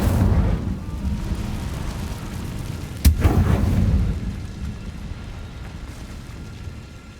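A fiery spell blast in Hogwarts Legacy: rumbling roar of flames and combat noise, then one sharp loud crack midway followed by a burst of whooshing fire that fades into a lower rumble.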